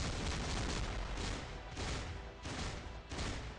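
A bomb thrown in the mobile game Marvel Future Fight goes off in a dense, continuous roar of blasts and crackling, with several booming swells rolling through the short stretch at steady loudness.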